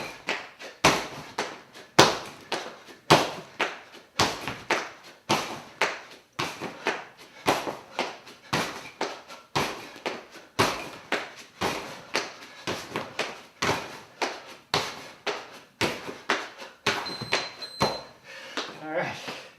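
Repeated thudding landings from box jumps during a workout round, coming in a steady fast rhythm of sharp impacts, each landing a close, heavy thump, with some talk mixed in.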